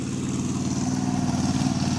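A tractor ploughing a muddy, flooded paddy field before transplanting, its engine a steady, throbbing drone with a pulsing low rumble, fairly close and uninterrupted.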